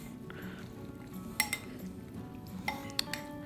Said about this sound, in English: Now we'll just stir it up together.